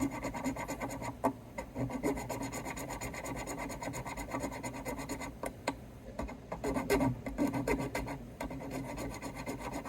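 A metal file rasps steadily against a hard metal part of an electric sitar during an overhaul, continuous scraping strokes close up with no talking.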